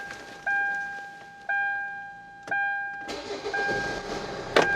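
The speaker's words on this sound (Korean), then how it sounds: "시동, 시동 바로 걸어보죠" A Kia Carnival R Grand GX 11-seater van gives three short electronic chimes, then the engine cranks, catches on the first try and settles into a low, fairly quiet idle.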